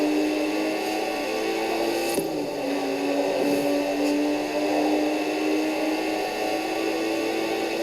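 A Lotus Exige drives in Forza Horizon 4, its engine holding a steady, even drone at constant revs, moderately loud, with a faint whoosh partway through and no talk.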